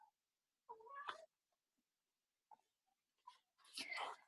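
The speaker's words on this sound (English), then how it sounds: "meowing at me" Domestic cat meowing indoors, two short close calls separated by a quiet pause, with a longer whiny meow at the end.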